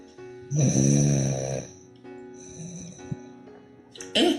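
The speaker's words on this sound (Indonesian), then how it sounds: "Ngorok" A man snores in loud, rough rattling pulls, one strong snore followed by weaker ragged breaths and a sharp snort near the end, close up.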